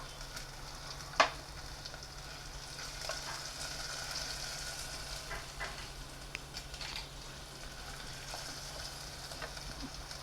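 Curry leaves and turmeric fry in hot oil in a clay pot for a traditional rice-flour dish, a soft continuous sizzle with one sharp crackle near the start and faint stirring scrapes.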